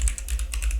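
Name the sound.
typing keys on a computer keyboard in Neovim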